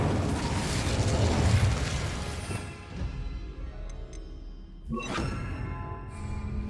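An Incendio fire spell blast roars in Hogwarts Legacy, a broad burst of flame that decays into rumbling crackle, followed by a second sharper spell burst.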